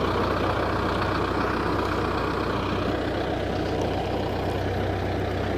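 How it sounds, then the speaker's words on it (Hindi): A Belarus 510 tractor diesel engine runs at light, steady throttle, a continuous low rumble held close and even throughout with no talking. "खिचाई चेक करो ट्रैक्टर दी, हल्की जी, बिल्कुल हल्की जी रेस है।"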